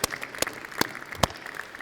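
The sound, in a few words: audience applauding graduating students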